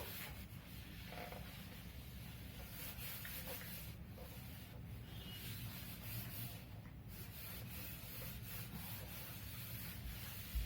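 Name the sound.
erasing writing by rubbing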